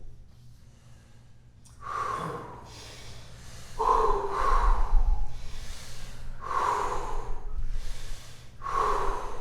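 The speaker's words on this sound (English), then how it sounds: "breathing in through the mouth and out through the mouth" Forceful yoga breaths pump in and out through the mouth in a steady rhythm, each loud rushing huff close to the ear, repeating about every second and a half with no talk.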